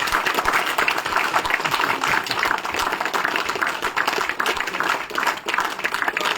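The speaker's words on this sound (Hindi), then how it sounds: "लगातार तालियां बजनी चाहिए" Sustained, dense applause from the crowd at a BJP joining event in Jammu and Kashmir, continuous loud clapping filling the whole stretch.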